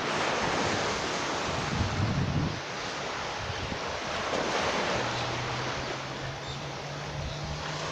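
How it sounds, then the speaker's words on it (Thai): Sea waves and wind on a beach near Phuket airport in Thailand, a steady loud wash of surf with heavy wind buffeting the microphone throughout. "ดูบรรยากาศชายทะเลไปด้วยกันนะครับ"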